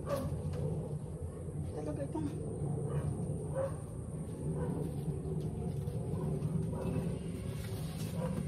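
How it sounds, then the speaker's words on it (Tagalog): A dog barks and yips in an outdoor yard setting under a steady rumbling background, with a person talking throughout. "Loko-loko itong asong hiningi ko kay Arthur ay ano?"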